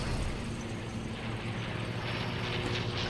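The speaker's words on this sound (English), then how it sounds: "Oh shoot, plane." Airplane passing overhead in the Fortnite video game, a steady broadband mechanical drone that holds at even loudness throughout with no voices.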